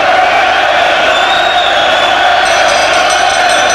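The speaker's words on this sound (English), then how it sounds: "Big crowd, great atmosphere here." A big arena crowd at a boxing match roars and cheers continuously, a loud dense wall of voices and whoops with no break.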